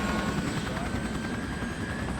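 A rescue helicopter powers up for takeoff, a constant loud rotor and engine roar with a steady whine, filling the whole stretch without a break.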